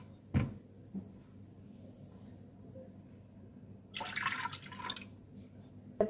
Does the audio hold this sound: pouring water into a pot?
yes